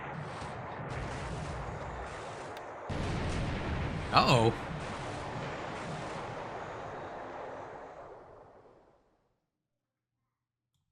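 Naval gunfire and explosions in the War in the Pacific strategy game, a rumbling barrage of booms with a sharp burst near the middle, fading out toward the end as a voice briefly reacts.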